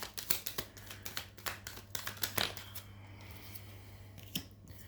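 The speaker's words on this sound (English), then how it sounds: "I'm going to shuffle these cards" Playing cards being shuffled by hand in a quiet room: a quick series of crisp riffling snaps and flicks in uneven bursts, fading into softer handling, close and without talk.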